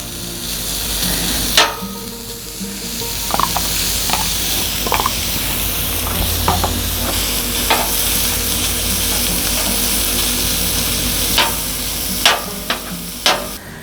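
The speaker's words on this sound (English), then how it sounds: "we're going to drop some of that on the flat top" Leftover pulled pork sizzles and fries steadily on a Blackstone flat top griddle, a continuous close hiss broken by occasional sharp scrapes and taps of a spatula against the steel surface.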